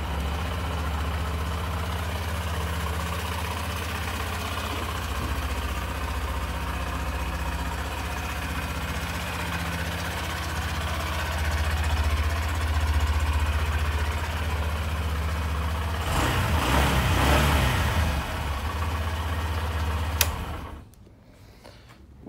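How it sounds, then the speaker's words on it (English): A 2021 Honda CB125F motorcycle engine idles steadily and quietly up close, with a short burst of revving or starter noise near the end before it cuts to near silence. "I'll quickly start it up for you and let you have a listen."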